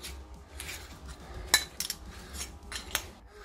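Stainless steel electrodes for a dry cell hydrogen generator being handled, with light metallic clinks and taps scattered irregularly at close range and no talking.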